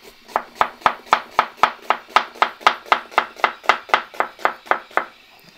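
A knife chops an onion on a board in a steady, even rhythm of about twenty crisp, loud knocks, close up and with no one speaking.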